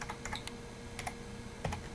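Keystrokes on a computer keyboard while entering a filename in Visual Studio, a quick irregular run of light clicks close to the mic with brief pauses between bursts and no talking.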